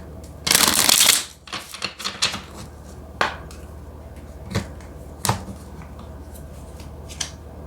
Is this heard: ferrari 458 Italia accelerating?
no